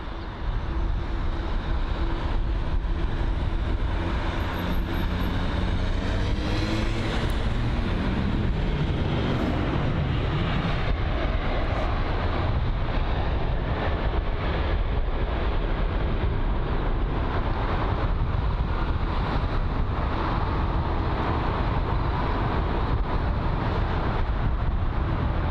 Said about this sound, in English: next arrival inbound is going to be the Scandinavian Airlines A320 Neo arriving from Copenhagen